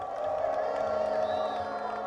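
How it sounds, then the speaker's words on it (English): A crowd applauds and cheers for party governors at a PDP grand finale rally in Edo, a continuous roar with whoops, a steady tone running underneath and speech mixed in. "give all our governors a round of applause"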